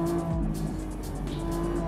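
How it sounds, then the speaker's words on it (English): A Lamborghini with a front electric motor and a rear V12 corners on a racetrack, giving a steady, loud engine drone with a slight dip in pitch partway through the bend. "waiting that the electric motor kick in from the front, the V12 from the back"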